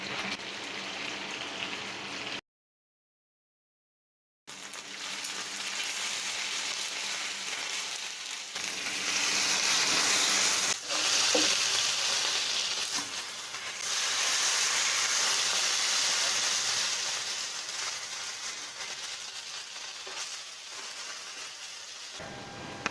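Fish fries in a pan on low heat, giving a steady, dense sizzling hiss that runs throughout with a brief silent gap early on, close and fairly loud, with no talk.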